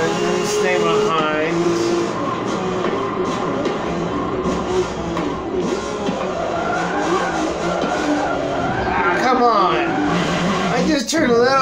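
Tires skid and squeal as a prototype race car slides in a Forza Motorsport 7 group race, with a steady engine roar throughout and rising, wavering squeals toward the end under continuous talk.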